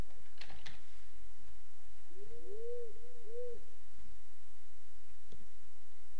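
Owl hooting in the Torchlight 2 video game, a few soft, smooth hoots in quick succession, moderately clear over a quiet background with faint clicking nearby.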